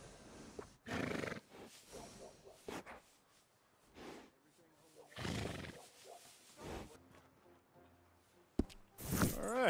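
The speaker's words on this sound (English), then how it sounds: "And a fine new horse." A horse neighs and whinnies in the Red Dead Redemption 2 video game, several loud bursts with quieter snorting and hoof sounds between them, and someone talks briefly.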